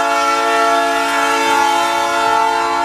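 Freight train sounding a long, steady, loud horn nearby at night in Montreal, a sustained multi-tone blast filling the whole stretch.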